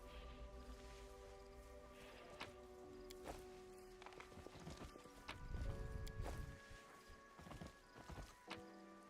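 Horse hooves in the fantasy video game Pathfinder: Wrath of the Righteous clop at a walking pace, soft and fairly quiet over a low ambient game soundscape with faint rustling and a brief whinny-like swell.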